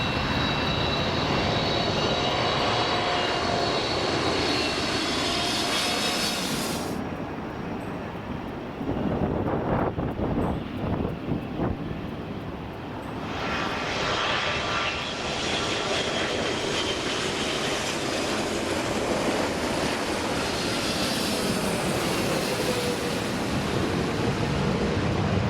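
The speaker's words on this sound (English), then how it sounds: "Engine failure on a Boeing 777." Boeing 777 jet engine roaring steadily and loudly throughout, a dense broadband rumble with a whining high edge that dips briefly midway, with wind noise and no voices.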